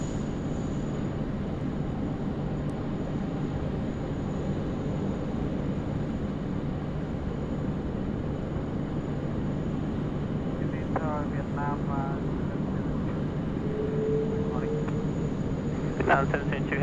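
A Dash 8 turboprop airliner takes off at Sydney Airport, heard as a loud, steady engine roar that holds without a break from start to finish.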